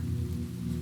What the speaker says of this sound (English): The rain kept tapping, patient as ever.